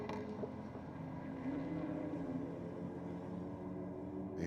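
BMW and Honda cars drag racing down a strip, heard as a steady distant engine drone with a faint rising whine, continuous and moderately quiet without talk.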